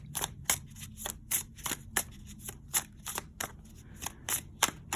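A deck of cards is shuffled for a tarot-style reading, giving a quick series of crisp riffling snaps and flicks in an uneven rhythm, close and fairly quiet, with no talking.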